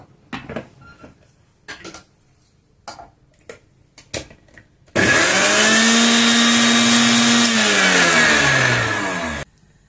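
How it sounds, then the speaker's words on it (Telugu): Mixer grinder running for about five seconds, loud and steady, coarsely grinding amla (Indian gooseberry) for a lentil dish, motor pitch sliding downward near the end, after a stretch of scattered kitchen clatter. "కొంచెము కచ్చా పచ్చాగా గ్రైండర్కి వేసుకున్నాము."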